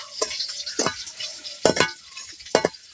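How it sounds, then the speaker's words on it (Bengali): Raw chips and papad tossed and stirred in a pan without oil, four sharp scraping strokes spread irregularly over a faint dry rustle, heard close with no talk. "এই নাড়তে নাড়তে দেখুন কত সুন্দর ফুলে যাচ্ছে"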